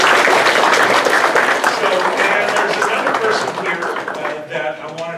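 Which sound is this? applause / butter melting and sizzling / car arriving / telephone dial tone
applause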